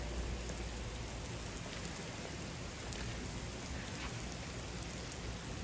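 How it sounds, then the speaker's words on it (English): Steady rain falls throughout in California during a thunderstorm, a continuous close hiss of drops on surfaces with no voices and no distinct thunder. "This is actual rain, California."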